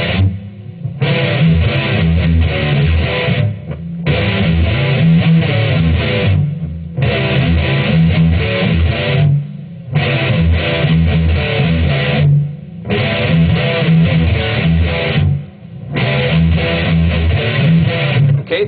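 Palm-muted electric guitar playing the intro riff of a song: tight, chugging distorted phrases in repeated bursts, each a couple of seconds long with short gaps between them, loud and close with no voices.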